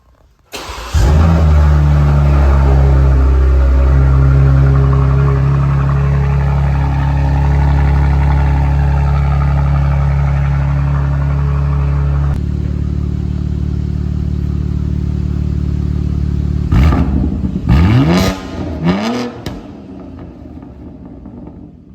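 A BMW M3 Competition fires up and revs hard, its loud engine roar holding steady for a long stretch before dropping to a lower idle, then barking through several sharp throttle blips near the end.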